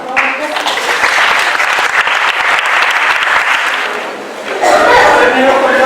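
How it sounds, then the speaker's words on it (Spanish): Loud, dense applause from a university lecture audience fills the room throughout, swelling again near the end, with a few chuckles and faint voices mixed in. "Un fuerte aplauso, por favor."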